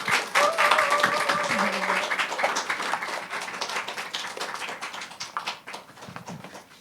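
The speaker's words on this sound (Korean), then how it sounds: "우리 최명수 목사님 박수로 맞이하겠습니다." Church congregation at a young adults' gathering claps to welcome a pastor, a strong burst of applause that gradually thins and fades, with a faint voice or tone briefly heard early on.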